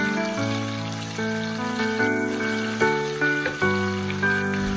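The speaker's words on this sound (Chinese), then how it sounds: "我们再给它煎一煎，把豆腐的四面都给它煎至焦黄就差不多了" Tofu pan-fries until golden on all sides, giving a soft, steady sizzle and scattered oil crackles, heard faintly beneath prominent background music.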